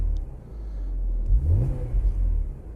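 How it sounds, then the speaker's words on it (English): A car engine revving with the convertible top down: a steady idle rumble rises into a throaty rev around the middle, then settles back toward idle, heard close and alone. "Let's rev her up here for a second since we got the top down."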